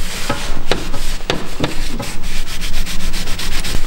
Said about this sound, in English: I'm just cleaning like everything with WD-40 just to take the grid out